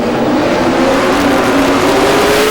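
A 2009 European Le Mans Series race car holds a loud, steady engine roar, its pitch climbing slightly while it stays near.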